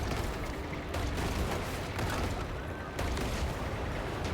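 Base defense turrets firing in the Machine Mind vehicle-building game, a steady, fairly faint wash of rapid overlapping shots and booms with brief breaks, running throughout.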